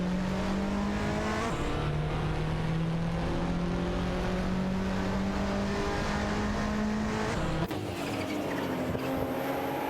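Racing cars, a Toyota Celica GT-Four among them, roar past at speed with a steady high engine drone and gear shifts, loud and continuous throughout with no talking.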